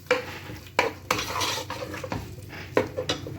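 Metal spoon scraping and clanking in a karahi pan while tomatoes, ghee, ginger and garlic are stirred for camel meat karahi, with a few sharp clatters and a soft sizzle underneath, close and without talk.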